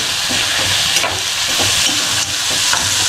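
Freshly gathered clams with chilli, onion, tomato and garlic crackle and sizzle in a pan, a dense close hiss broken by soft scraping stirs, with no speech.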